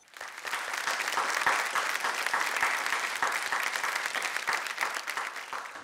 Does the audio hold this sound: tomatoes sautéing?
no